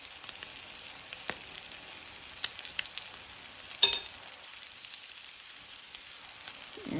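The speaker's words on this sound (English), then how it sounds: "So I tend to fry it" Crab cakes fry in a pan, a quiet steady sizzle with soft crackles and one sharper pop partway through.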